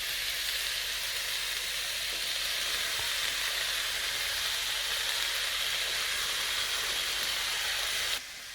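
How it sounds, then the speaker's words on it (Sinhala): Hokkien noodles added to a hot pan, sizzling loudly with a constant steamy hiss and stirring, close and steady, cutting off abruptly near the end. "දැන් මම මේකට එකතු කරනවා හොකින් නූඩ්ල්ස් ටික මේ විදිහට"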